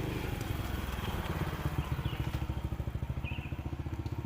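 A motorcycle passes close by on a street, its engine throbbing steadily and rapidly, loud and fairly near, with no talk over it.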